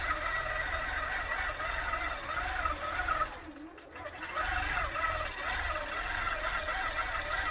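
A Qnique longarm quilting machine from the Grace Company runs without a bobbin, giving a steady, thin, tinny mechanical whir with a wavering tone that dips briefly midway before resuming, faint and continuous.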